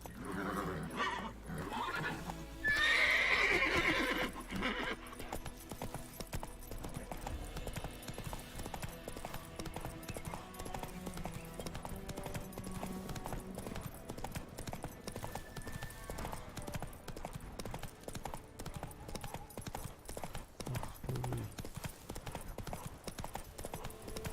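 Roach the horse from The Witcher 3 galloping, a steady drumming of hoofbeats running throughout, with a brief neigh near the start and game music and ambience beneath.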